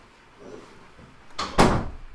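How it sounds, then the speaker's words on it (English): A door swings shut in a room with a soft whoosh and then a solid thud, close and moderately loud, following a short stretch of quiet shuffling. "Can you close the door for me?"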